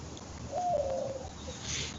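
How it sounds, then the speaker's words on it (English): A pigeon or dove gives a single soft, low coo lasting under a second. It sits at a moderate distance over a faint outdoor background, and no one speaks. "What kind of bird is that?"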